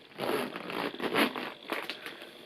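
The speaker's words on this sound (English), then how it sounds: "The zip isn't the most buttery smooth of all the Louis Vuitton zips" A Louis Vuitton Nice Mini bag zip is drawn open in a close, loud, rasping run of short scratchy bursts lasting a couple of seconds, with no talk over it.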